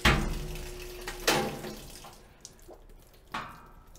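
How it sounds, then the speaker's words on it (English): Water trickling weakly into a Maytag washer with poor water flow, a faint, thin splashing stream that has a few sharper knocks and splashes in it, with no talking. "As you can see, we're not getting a lot of water flow."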